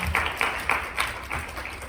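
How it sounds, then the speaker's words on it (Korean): An audience at a hackathon presentation event gives the presenting team a round of applause, a soft, steady patter of clapping at moderate distance with no voices over it. "발표에 수고한 사이언버스 팀에게 큰 박수 부탁드리겠습니다"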